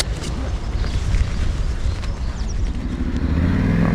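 A motorcycle on a Czech touring trip starts up and pulls out of a parking place, a loud, close engine rumble that steadies into a deeper, rising drone as it moves off.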